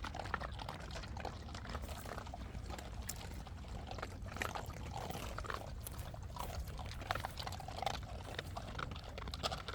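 Water poured out for forest dogs outdoors, a steady, soft splashing flow running continuously at moderate distance without speech.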